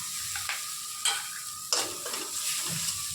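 Ginger garlic paste being stirred and frying in a pan, a continuous close sizzle broken by several sharp scraping strokes of the spoon, with no talking.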